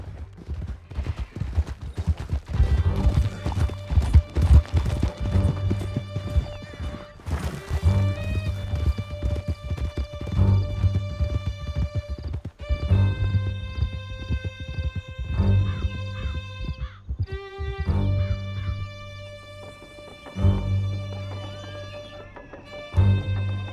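Horses gallop in a Western video game, with rapid hooves pounding under a music score, the clatter rising and fading as the riders flee through a canyon.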